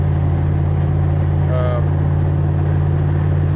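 A Chevrolet Equinox engine idles with a steady low hum and constant drone, close and unchanging throughout, with a brief faint higher tone partway through.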